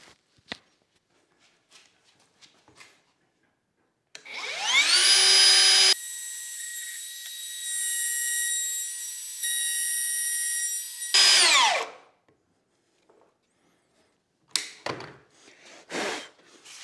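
A wood router runs along a guide rail on a DIY jig, spinning up to a loud high whine, cutting steadily for several seconds, then winding down, with handling knocks before and after.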